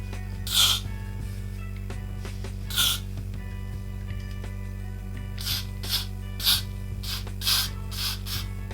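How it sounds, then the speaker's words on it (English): Hair spray hisses from an aerosol can over a wig lace closure in short bursts, two spaced sprays followed by a rapid run of five or six more, close and fairly soft over a steady low hum. "I like to spray over it one more time"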